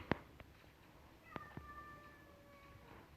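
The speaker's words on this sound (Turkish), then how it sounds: "Bazen gelip böyle miyavlıyor." A pet cat gives a single drawn-out meow from close by, framed by a few sharp taps and clicks in an otherwise quiet space, with no speech.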